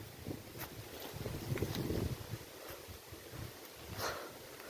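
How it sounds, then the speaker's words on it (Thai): A strong, long-lasting wind with no rain blows steadily outdoors, a constant rumbling rush that swells now and then and buffets the microphone. "แต่นี่ลมพัดอยู่นานแล้วนะครับ"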